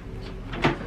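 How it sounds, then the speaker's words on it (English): A wardrobe door in a cruise ship cabin on the Queen Mary 2 swings open with a short, soft close thud and rattle, heard alone. "We've got wardrobes in here."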